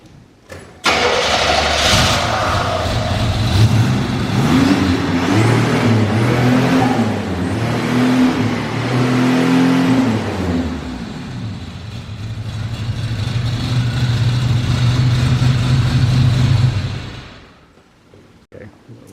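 A 1987 Buick Grand National V6 starting up and revving, a loud close engine roar rising and falling through several throttle blips before settling into a steady idle and cutting off.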